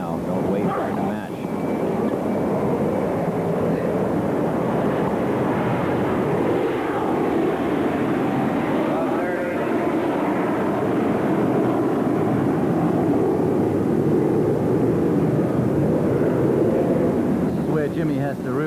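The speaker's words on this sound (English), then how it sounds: "Plane flew over, the first one of the day." A fixed-wing airplane passes over a tennis stadium during a US Open final, its engine a broad, steady roar that fills the whole stretch, with a commentator's voice audible underneath.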